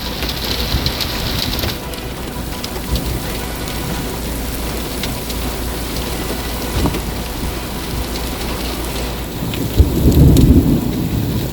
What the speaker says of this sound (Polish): To najsilniejsza burza w tym roku zdecydowanie.